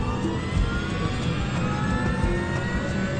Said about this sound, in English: he records the sound of the engines from inside the cockpit